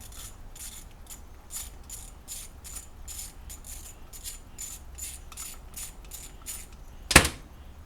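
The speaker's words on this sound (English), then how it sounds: "the one place where you do need a 1/4 inch drive most likely is to get this one T25 bolt out of this plastic housing" A 1/4-inch drive ratchet clicks steadily while backing a T25 bolt out of the plastic housing on a Sprinter van 3.0 throttle body. The rapid ticking stays fairly faint and close, then ends in one sharp metallic clank.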